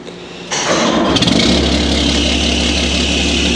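A car engine, its alternator belt in need of tightening, cranks briefly and catches, then settles into a loud, steady idle close by with no talking.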